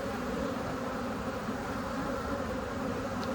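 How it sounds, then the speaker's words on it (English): Honeybees buzz at a beehive in a dense, steady, continuous hum that stays close and even throughout, with no voices. "We have some baby bees coming out up there."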